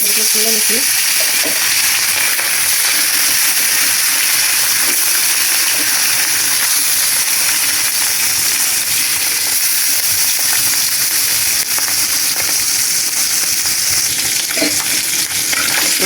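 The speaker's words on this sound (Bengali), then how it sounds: "এই যে এখন মাছটা দিয়ে দিলাম লবণ" Poa fish frying in hot oil in a wok, a loud, dense and steady sizzle that runs throughout with little variation.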